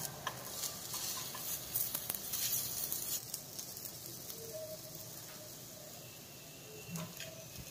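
Masala spices frying and sizzling in a pan while besan sabji is cooked, a soft continuous crackle with occasional stirring scrapes, faint and close, with no talking.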